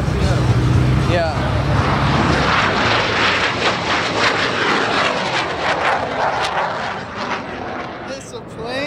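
A fixed-wing airplane passes overhead at a car meet, its loud engine roar and rushing sweep filling the scene as people talk nearby.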